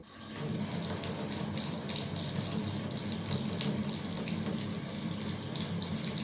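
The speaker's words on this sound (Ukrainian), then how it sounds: "Тепер Вмикаємо холодну воду." In an apartment during a blackout, the cold water tap on a backup supply opens and water gushes steadily into a sink, a close, continuous rush that starts right away and holds level.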